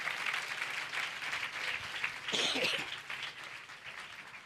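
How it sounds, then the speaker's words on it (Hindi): A church congregation claps together in thanks to the Lord during a Hindi sermon, a dense, steady patter of many hands that swells briefly in the middle and carries on throughout, with no talk over it. "ताली बजाकर प्रभु को"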